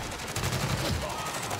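Shotgun blasts in the Call of Duty Warzone (Modern Warfare) video game: a few sharp, punchy reports in quick succession over busy game noise, fairly quiet overall.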